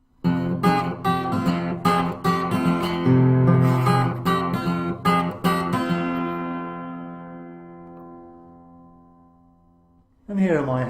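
Acoustic blues guitar fingerpicking the verse, plucked notes and bass strings in a steady picking pattern, then a ringing final chord that fades away before another strum starts.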